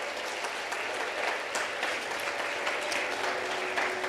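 A school audience claps for its under-16 boys' and girls' sports teams, a steady, moderately distant round of applause that carries on without a break.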